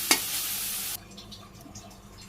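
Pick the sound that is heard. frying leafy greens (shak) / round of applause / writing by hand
frying leafy greens (shak)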